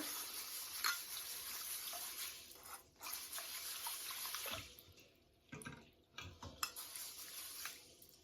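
Pearl millet grains swished and stirred by hand in a bowl of water to rinse out grit, a continuous close watery sloshing with brief pauses and splashy bursts, no voices.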